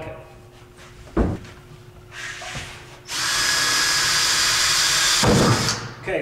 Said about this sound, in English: you're going to want to drill some holes in the bottom of the bucket